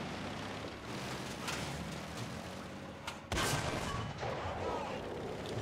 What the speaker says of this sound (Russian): Так, выстрелим под днище.